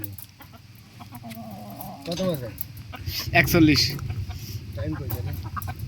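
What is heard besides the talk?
chickens clucking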